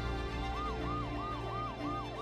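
An ambulance siren wails in a steady, repeating up-and-down cycle over a constant background drone, loud and alone with no voices.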